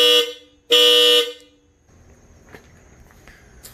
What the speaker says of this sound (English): the horn is loud as heck